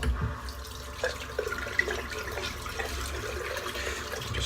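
Water runs steadily from a tap to rinse a puck of Wolfpac Pine'o'Mite shaving soap, a continuous close splashing and trickling flow with small drips and clatters.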